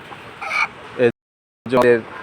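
Chickens clucking close by while being fed, a few short clucks and squawks separated by a brief silent gap.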